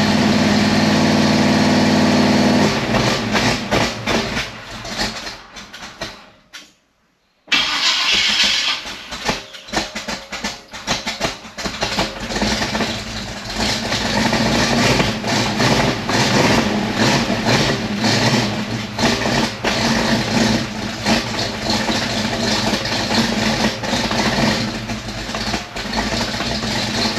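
A 1956 Chevy wagon left abandoned in a snow bank cranks briefly, pauses, then catches and settles into a steady, fairly loud idle that runs on alone for over twenty seconds.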